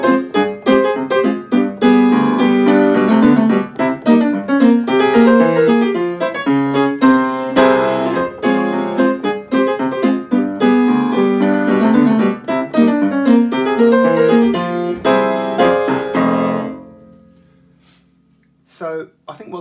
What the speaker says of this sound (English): So the theme to Bullseye, when played in this double harmonic minor key, it sounds a bit like this.